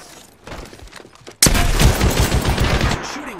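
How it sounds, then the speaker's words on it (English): Rapid bursts of automatic gunfire erupt loudly in an Apex Legends battle royale match, preceded by quieter game sounds, with dense sustained firing continuing to the end. "Shooting at me."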